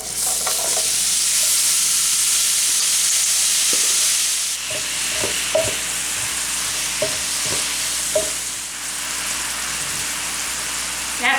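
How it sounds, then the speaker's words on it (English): Apple hand pies fry in butter in a skillet, giving a loud, close sizzle that later softens into a steadier crackle broken by occasional clicks and spatters, with no voices. "Then I'm going to put them in the skillet with some butter."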